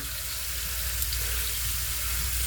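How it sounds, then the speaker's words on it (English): Food sizzles and fries steadily in a hot pan during a home dinner, a dense, even crackling hiss that stays close and constant with no talking. "They're frying a little faster than I wanted them to, but that's okay."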